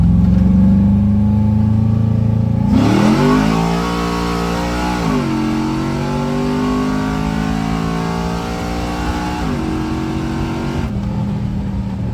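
Loud wide-open-throttle run from a 6.0 LS-swapped Chevy S10 with a 4600 stall converter: engine idles, then flares and climbs in pitch through repeated upshifts, a sustained close roar before easing off, no talking.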